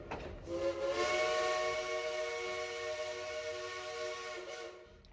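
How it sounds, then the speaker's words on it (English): A steam locomotive whistle on the Durban to Cass train sounds one long, sustained, loud harmonic blast that holds steady for several seconds before cutting off, with no talking. "There's a steam locomotive that goes from Durban to Cass."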